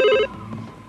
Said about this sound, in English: they were interrupted by the telephone ringing